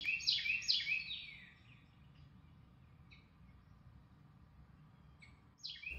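Red-vented bulbuls chirp near a nest where chicks are being fed, with a quick burst of bright, close calls at the start, a few faint notes in the quiet middle, and another call at the end.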